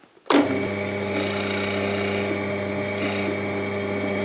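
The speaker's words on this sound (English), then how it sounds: "I'm using a 12mm Forstner cutter just to do my clearance hole for the head of the screw" A power drill starts abruptly and runs at a steady, constant whine while a 12mm Forstner cutter bores a clearance hole for a screw head in a workpiece, close and loud with no talk.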